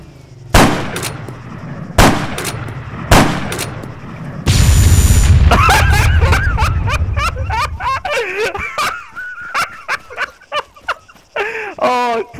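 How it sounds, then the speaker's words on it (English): In Arma 3, three loud, evenly spaced gunshots fire at a vehicle's tires, followed by a long roaring rush of noise and then excited voices talking over the scene. "Shoot his tires out!"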